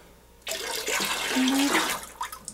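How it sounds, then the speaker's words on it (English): Yeast starter is poured into icewine must, a close, steady liquid gush for about a second and a half that then trails off into a few drips, with no talking. "And then my yeast starter, I'm just going to pour that in."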